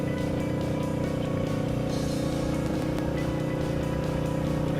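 A motorcycle on the road gets back up to speed after slight braking, its engine hum steady and continuous with wind rush, loud and close throughout with no talk.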